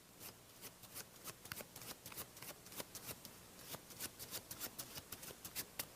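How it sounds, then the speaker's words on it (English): Deck of playing cards shuffled off in small packets, a rapid series of crisp papery riffles and slaps, close and fairly quiet, in uneven bursts throughout. "I shuffle off packets until I reach the middle of the deck."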